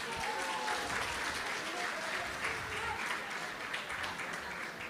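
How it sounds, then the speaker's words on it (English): A congregation at a Sunday temple program applauding the Pujari deity team, sustained broad clapping that carries on evenly for several seconds, with faint voices mixed in. "Let's give them a huge round of applause."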